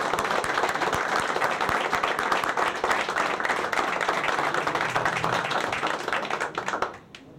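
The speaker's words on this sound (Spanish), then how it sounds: "pido que todos ustedes den un gran aplauso a don Mauricio" An audience claps for don Mauricio at a Martes de Café event honoring José Sulaimán, a steady patter of many hands at moderate volume that thins and dies away in the final second.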